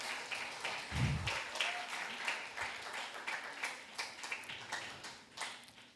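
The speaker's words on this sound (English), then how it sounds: "Let us give our cooks a round of applause." Applause for the school cooks at a primary school graduation ceremony, a scattered, fairly faint patter of clapping from the audience, with a brief low thump near the start.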